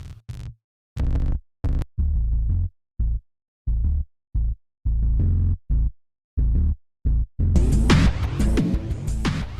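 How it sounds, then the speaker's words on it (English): Deep sub bass synth notes with amp distortion pulse in short repeated bursts with gaps between, then a denser, gritty passage swells louder at the end. "let's go ahead and put a little bit of an amp on there to kind of grunge it up"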